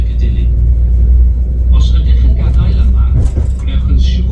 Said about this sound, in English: Oh, look, we're on a Welsh train.